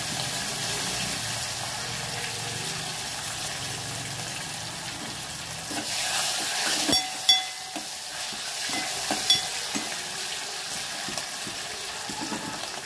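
Green chilies, mint and coriander fry in a pan, producing a steady close sizzle that swells midway as the herbs go in, with a few sharp stirring knocks and no speech.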